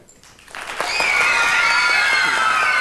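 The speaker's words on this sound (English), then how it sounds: "Oh, be nice. Just clap a little." A 1989 Nickelodeon children's game show studio audience breaks into loud, sustained clapping and cheering that swells after a quiet start and holds steady, with young voices shouting over the applause.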